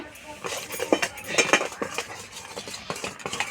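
A metal wok holding hot jaggery syrup for puffed-rice laddoos is lifted off the stove, giving a series of close clinks, scrapes and knocks of metal on metal in an uneven rhythm.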